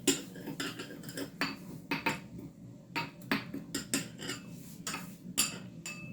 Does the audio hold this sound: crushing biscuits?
yes